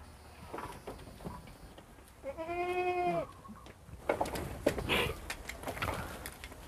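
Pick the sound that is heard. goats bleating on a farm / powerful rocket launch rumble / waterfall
goats bleating on a farm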